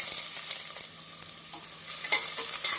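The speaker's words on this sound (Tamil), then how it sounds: "இதனுடன் நறுக்கிய வெங்காயத்தை சேர்த்து விடலாம்" Chopped onions dropped into hot oil with cinnamon and cardamom for a Tamil chicken kulambu, sizzling quietly while a spoon stirs and scrapes the pan in intermittent strokes, with no voices.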